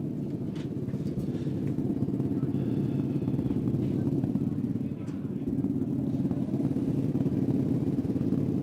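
Modified racing karts warm up at a short-course race event, a steady mid-pitched engine drone with a rough, buzzy texture, continuous and fairly distant, with crowd noise and a voice mixed underneath.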